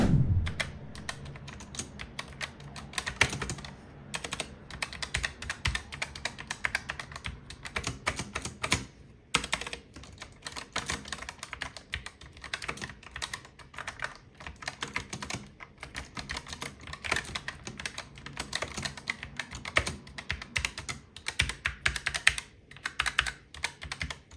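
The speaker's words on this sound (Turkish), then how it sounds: "Klavyenin bir tuş seslerini birlikte dinleyelim." Keys on a Rampage Rebel mechanical keyboard with red switches clack in quick, irregular bursts of typing, recorded close up for about twenty seconds with no talking.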